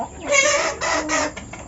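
Free-range kampung chickens cluck in short bursts while feeding at night, several soft calls close by in a quiet farm setting.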